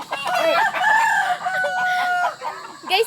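A fighting rooster crows loudly and close by in one long, wavering call, with a few short clucks before and after it.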